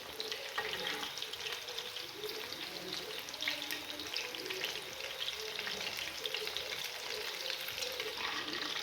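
Chicken kabab pieces frying in oil over a medium flame, a dense, continuous crackling sizzle that holds steady and close throughout, with no voices.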